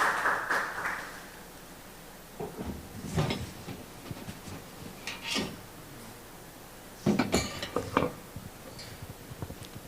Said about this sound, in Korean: 박수로 환영합시다.